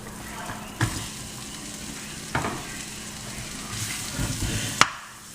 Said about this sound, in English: Now, more butter. Now we're gonna brown our onions.